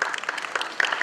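Audience applause at a live skincare product demonstration: a brief, dense patter of many hands clapping together, moderately loud and steady, with a few sharper claps standing out near the end.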